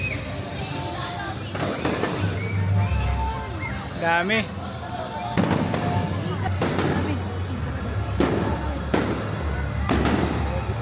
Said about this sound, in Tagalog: Ayan guys, fireworks display sa EK paggabi